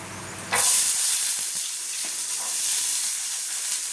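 Small onions (shallots) drop into hot oil in a pan for a Malabar-style chicken fry, setting off a sudden loud burst of sizzling that settles into a steady hiss and crackle.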